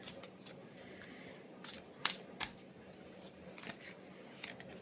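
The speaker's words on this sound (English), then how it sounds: "Oh, you see those cards came flying out, right?" Angel number cards are shuffled by hand, with a run of soft papery riffles and several sharper snaps as cards flick out of the deck, close and fairly quiet.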